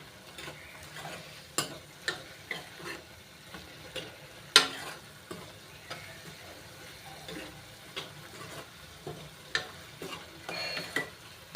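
Onions frying in a pan for dhaba-style matar paneer, with a steady low sizzle broken by scattered clicks and scrapes of stirring, one sharper knock near the middle, close and moderately loud.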